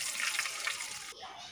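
Water mixed with jaggery and fennel pours into a cooking pot of browned rice for Sindhi-style sweet rice, a brief, soft splashing pour that cuts off partway.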